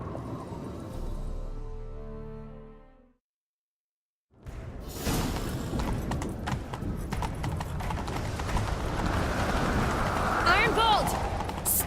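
A horse gallops in The Witcher 3: Wild Hunt, with rapid, rhythmic hoofbeats, whooshing movement and a whinny, up close after a brief silent gap. Voices speak over the action.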